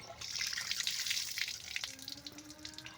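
Water gushing from a rural hand pump during water fetching, a steady loud splashing flow with a brief tonal ring near the end, no speech.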